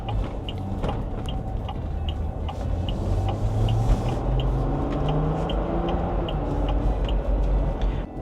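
Inside an INEOS Grenadier 4x4 as it pulls away: a steady, loud low road and engine drone fills the cabin, with a faint regular ticking running through it.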